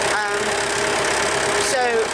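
A 265 tractor engine running while rolling grass seed, a steady rumbling chug close by with someone talking over it.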